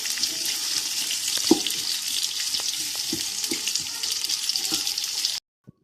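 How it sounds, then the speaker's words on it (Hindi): Chopped onions frying in oil in a large cooking pot for mutton yahni pulao, giving a steady, close hiss and crackle throughout that cuts off abruptly near the end. "इसके अंदर हम प्याज ऐड करेंगे और इसको फ्राई कर लेंगे"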